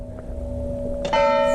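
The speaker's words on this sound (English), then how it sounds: "that'll be the bells going off for the" A church bell strikes the hour in a small town square beside the town hall, a sustained ringing tone that blooms into a bright, louder peal near the end, heard alone without talk.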